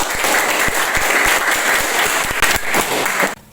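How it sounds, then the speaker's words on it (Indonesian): A high-school class at SMAN 18 SBB gives a burst of dense, close applause, many hands clapping steadily for about three seconds before it cuts off abruptly. "Kita kasih aplaus."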